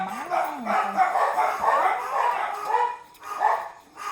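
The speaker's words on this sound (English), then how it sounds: "I knocked my glue gun off. I disturbed the dogs." Dogs bark and yip after a glue gun is knocked off a scrapbooking crafting desk, several short barks and a rising whine close by filling the whole stretch.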